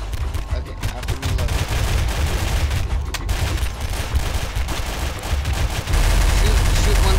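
Rapid gunfire in Garry's Mod, a dense, loud burst of shots rolling continuously throughout, with excited voices shouting over the shooting.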